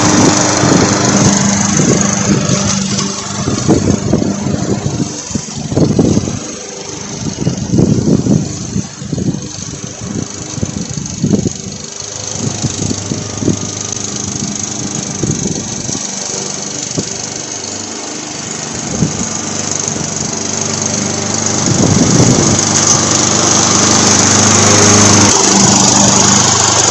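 A Husqvarna HU700L lawn mower that sat unused for years runs steadily close by, its small engine droning loud and continuous with slight surges.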